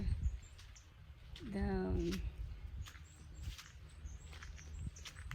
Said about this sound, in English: see, you hear the birds chirping.